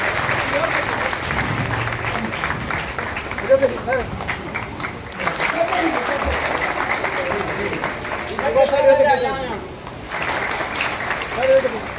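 Crowd applause at a political rally in Navgachhia, Bihar, continuous clapping from a large gathering running under loud amplified speech and shouting, with occasional swells.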